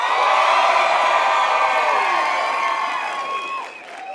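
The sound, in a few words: audience cheering to pick a contestant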